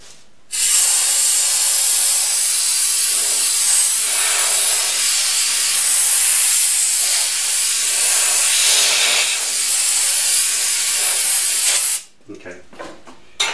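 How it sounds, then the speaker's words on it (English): Compressed air blasts steadily across a freshly machined workpiece on a Bridgeport mill, a loud continuous broadband hiss lasting about eleven seconds before cutting off abruptly, followed by faint clatter. "add a little air and dry this out"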